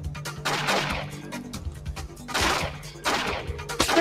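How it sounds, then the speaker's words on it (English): Bursts of gunfire in the Splinter Cell police station mission, several loud clustered volleys of rapid shots with short gaps between them, close and dominant, no speech. "Shots fired."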